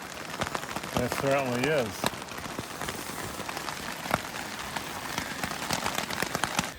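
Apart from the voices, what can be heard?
heavy rain falling by a river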